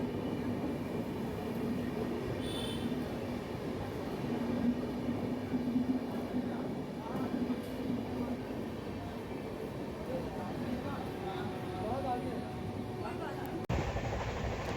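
Passenger train running steadily, heard from inside a carriage on a trip back to Kolkata: continuous rumble and rattle of wheels on track, moderately loud and unbroken throughout, with no talking.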